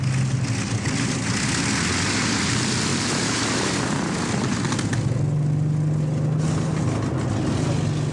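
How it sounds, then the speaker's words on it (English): Engines of a WW2 bomber roar through its takeoff run, a loud continuous drone with a steady low hum that shifts to a higher held tone partway through. "As each aircraft begins its takeoff run, another takes its place."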